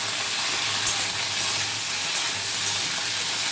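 Chopped tomato and four or five green chilies sizzle in hot oil in a pan, giving a steady, even hiss that holds at the same loudness throughout.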